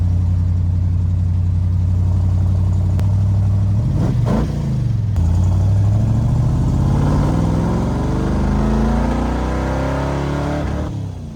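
A 1968 Dodge Coronet V8 runs hard at full throttle, a loud, close, steady engine roar that briefly dips around a gear change, then climbs again in pitch as it pulls through the gear.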